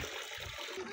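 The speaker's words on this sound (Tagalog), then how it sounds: "So ito na yung tubig." Water pours steadily from a faucet at a rural water tank outdoors, a continuous close hiss and splash with no voices.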